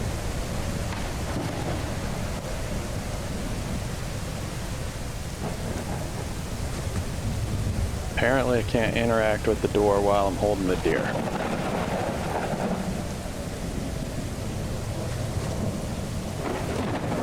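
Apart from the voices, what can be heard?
thunderstorm with rain in video game Mist Survival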